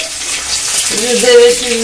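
A fish head frying in oil in a pan, a loud close sizzle throughout, with a voice speaking over it partway through.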